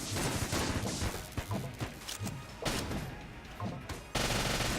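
Rapid gunfire in Enter the Gungeon: dense, loud bursts of shots fired in quick succession, with a sharp surge of noise near the end.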